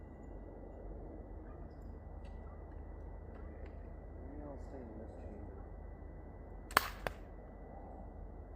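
A Nerf SuperMAXX 1500 blaster fires a dart with one sharp, brief pop and a quick follow-up click, standing out against a quiet, steady background hum.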